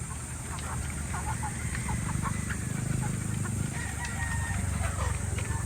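Chickens on a free-range farm cluck and call against a steady outdoor hum, with scattered bird sounds over a constant background and some faint speech mixed in.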